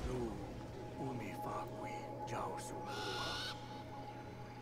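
An owl hoots in Far Cry Primal, a few soft calls under steady game ambience with a low hum, while a voice murmurs faintly in the background.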